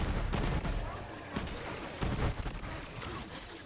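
Rapid gunfire from the video game Borderlands 3, a quick series of sharp shots spaced about half a second apart over a rumbling background, fairly faint overall.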